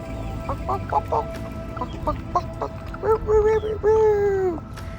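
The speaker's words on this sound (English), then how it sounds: "Oh, there's a rooster." Chickens cluck in short bursts, then a rooster gives a drawn-out call, moderately close against a noisy outdoor background near Wailua River, Kauai, Hawaii.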